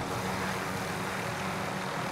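Helicopter in the shooter game Call of Duty: Modern Warfare, a constant dense roar of engine and rotor noise, loud and close, with no talk.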